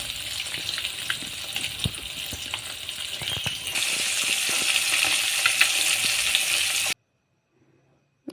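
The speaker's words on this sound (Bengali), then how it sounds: "তেলটা খুব গরম করে মাছগুলোকে ভেজে নেব" Fish coated in salt and turmeric sizzles loudly in very hot oil, a steady crackling hiss that swells partway through, then cuts off abruptly to near silence just before the end.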